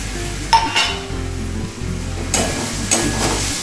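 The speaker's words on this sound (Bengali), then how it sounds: "আলুগুলো দিয়ে একটু কষিয়ে নিচ্ছি।" Potatoes being sautéed with spices in a pan for an old traditional Bengali dish, a close, steady sizzle broken by a few sharp clinks and scrapes of a spoon against the pan.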